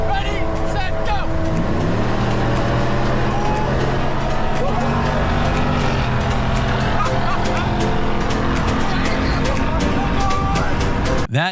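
Gen 3 Ford Raptor and a 6.2-powered Chevy Silverado ZR2 in a highway drag race, engines droning loud and continuous with rising pitch under acceleration, heard from inside a vehicle with wind roar and people talking over it.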